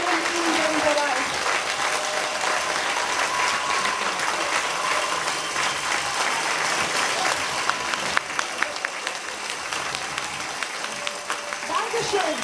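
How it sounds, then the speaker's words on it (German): Sustained applause from a crowd at a workshop Christmas party, dense and steady for the whole stretch, with a few voices mixed into the clapping. "Applaus auf jeden Einzelnen in dem Bereich."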